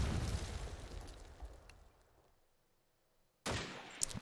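Grenade explosion in Call of Duty 2 video game: a sudden loud blast bursts in after a quiet stretch, following fading gunfire and rumble from a busy match.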